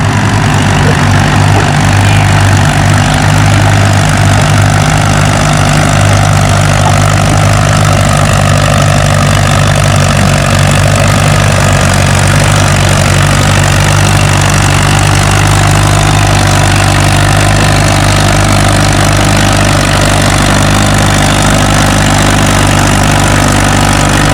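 Allis-Chalmers tractor engine working hard at a tractor pull, a loud, steady, continuous low rumble close by that stays strong throughout, with no speech heard.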